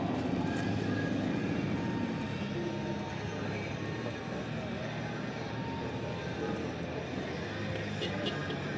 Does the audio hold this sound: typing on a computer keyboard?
no